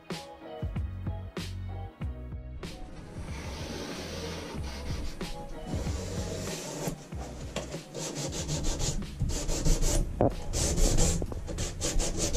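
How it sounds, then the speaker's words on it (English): Resin countertop being hand-sanded with 220 grit sandpaper, a steady scratchy rubbing close to the mic in repeated back-and-forth strokes that grow louder toward the end. "What grit sandpaper is that?"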